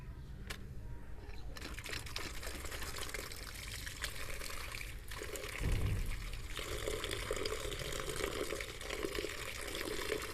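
Black plums (jamun) being washed in water for sharbat, with continuous close splashing, pouring and trickling as the fruit is rinsed, and a slightly louder swirl midway, with no talking.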